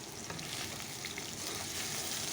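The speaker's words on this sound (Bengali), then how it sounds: "আলুটা ভেজে নিচ্ছি" Potatoes fry in oil with a steady, soft sizzle and faint crackle throughout, heard up close and alone.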